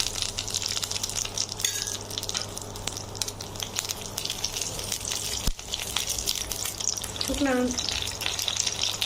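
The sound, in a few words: dried chilies frying in oil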